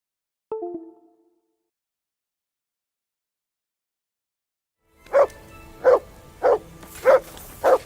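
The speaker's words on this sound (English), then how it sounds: "Whistle at that mutt of yours to stop barking." A dog in the video game Kingdom Come: Deliverance II barks five times in a steady run, loud and close, following a short tonal blip and a long stretch of silence.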